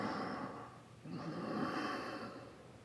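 Two slow, audible breaths drawn with the throat partly closed, giving a soft hissing, ocean-like rasp in yoga ujjayi style; quiet and close, a longer exhale then an inhale.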